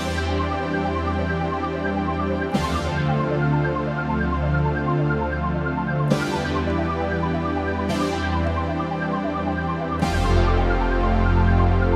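Keyboard arpeggiated backing sequence for a song, played with a slight delay: a steady, loud cascade of repeating synth notes, changing chords every few seconds and ringing on its own with no talking.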